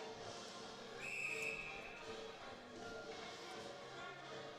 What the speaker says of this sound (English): It looks to be whistled down again by that back linesman